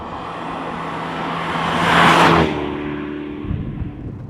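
A Renault Megane R26.R's 2-litre four-cylinder engine draws in air with a rising induction roar that swells to a peak, then drops back to a steady cruising hum inside the car.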